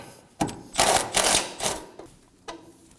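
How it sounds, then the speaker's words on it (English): A 14mm socket ratchets a bolt loose inside a 2014-2020 Acura MDX 3.5L V6 during fuel pump module work. Close, quick mechanical clicking comes in several short bursts with brief pauses, and no one talks. "using a 14mm socket, we're gonna be removing this bolt"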